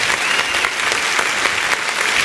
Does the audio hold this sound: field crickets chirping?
no